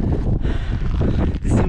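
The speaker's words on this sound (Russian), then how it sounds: "Здесь уже дует холодный ветер, туман." Cold wind gusting across the icy, fog-covered Angarsky Pass in Crimea in winter, a loud, rumbling buffet of wind on the microphone with a brief lull partway through before surging again.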